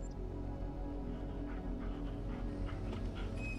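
A dog pants and softly whimpers in Final Fantasy XVI, rhythmic breathy huffs sitting low under a steady bed of game music.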